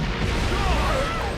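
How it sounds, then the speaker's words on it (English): A dense, roaring crash of noise from a building exploding, loud and continuous like a large blast rumbling through, with no clear separate impacts. "That's the sound of a building exploding."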